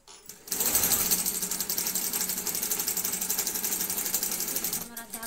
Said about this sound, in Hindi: मैं दावन की सिलाई कर लिया हूँ।